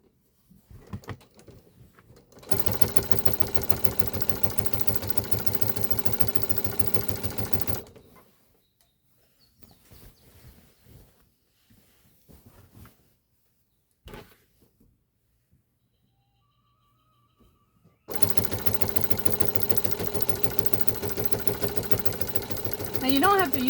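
A sewing machine with a walking foot runs in two long steady bursts, rapidly stitching binding through thick layers of quilt fabric and batting, with quiet handling and brief talk in the pause between them.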